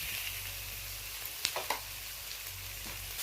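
Onion and tomato sizzle steadily in hot oil in a pan, with a few sharp scrapes and clicks of stirring breaking through the continuous close frying hiss.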